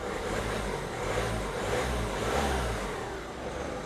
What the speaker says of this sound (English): start it up, run it up, give it a few light revs